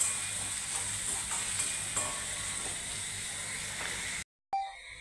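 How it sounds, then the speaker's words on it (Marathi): Onions sautéing in a pan until reddish give a steady, close frying sizzle with faint stirring scrapes, then a brief cut to silence near the end followed by a softer tail. "कांदा थोडा लालसर होईपर्यंत परतून घ्यायचा आहे।"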